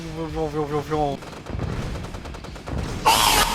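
Gunfire and explosions in the real-time strategy game Red Alert 2: a scattered series of shots and booms follow a tonal game sound, ending in a loud burst, with voices talking over it.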